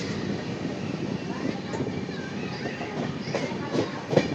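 The Trivandrum–SSS Hubballi weekly superfast express, just departed Kayamkulam Junction, gives a steady rumble and rattle of wheels on rail from inside the train, with faint clicks coming through the continuous noise.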